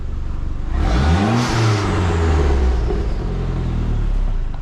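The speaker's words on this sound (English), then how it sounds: "there's a little quick rev. That's what this thing sounds like." A turbocharged PT Cruiser with an upgraded exhaust rumbles at idle, then gives one quick, loud rev that swells and drops back, heard up close with no talking.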